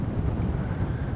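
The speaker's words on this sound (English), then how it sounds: "It's quite windy now, but it's forecast to drop down" Wind buffeting a boat on a Dutch canal route, a steady low roaring rumble from gusts on the hull and rigging, continuous and fairly loud with no breaks.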